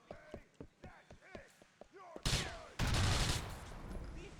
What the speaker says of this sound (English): I'm gonna drop a nade here.